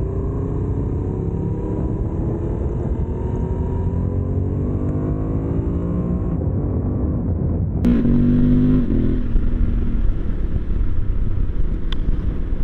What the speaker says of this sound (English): The engine's really sporty. It loves to rev out.